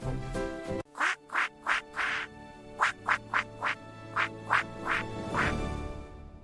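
A run of about a dozen loud, close duck quacks in an uneven rhythm, each a short nasal burst with pauses between, heard alone with no talking.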